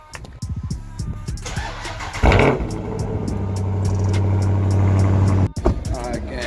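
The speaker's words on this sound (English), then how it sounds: "I'm gonna go ahead and get y'all this cold start" A BMW Alpina B6 cold start: the starter churns briefly, then the engine catches with a loud rising flare and settles into a steady, strong idle before cutting off, with some talk around it.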